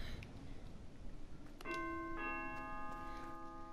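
A doorbell in the Fortnite video game rings partway through as two bright, sustained chime tones that overlap and linger over a busy game background.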